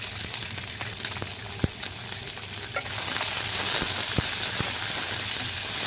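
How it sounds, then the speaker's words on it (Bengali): Chicken masala spices fry gently in a pan, giving a steady close hiss and crackle with scattered small pops and a few stirring clicks, rising slightly louder midway. "মশলাটা খুব বেশি ভাজবো না, হালকা একটু ভাজবো।"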